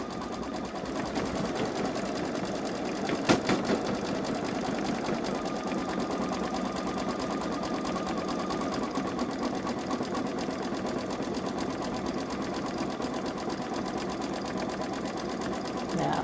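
Babylock Solaris 3 embroidery machine stitching a design, a steady continuous rapid mechanical whir and tapping at moderate level throughout.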